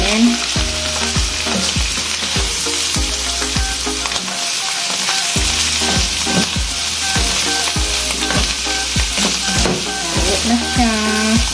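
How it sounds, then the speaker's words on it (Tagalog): Beef salpicao sizzles and fries loudly in a pan in a home kitchen. A dense steady crackle runs throughout, with rhythmic scraping and stirring strokes against the pan. "Ganito lang ako magluto ng salpikaw."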